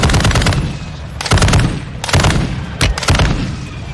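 Loud automatic gunfire in a video game on a Dell G laptop that is overheating comes in four rapid bursts with short gaps between them.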